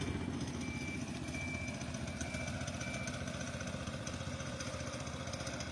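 A steady lawnmower engine drones continuously at a moderate level, a low rumbling chug with no pauses or talk.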